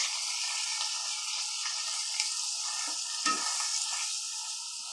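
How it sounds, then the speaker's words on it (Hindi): Onion stirred and fried with ginger-garlic paste in a pan, a steady bright sizzle with occasional scraping stirs, close and continuous with no talking. "इसको अच्छे से मिक्स करेंगे और लगभग दो से तीन मिनट तक इसको भुनेंगे"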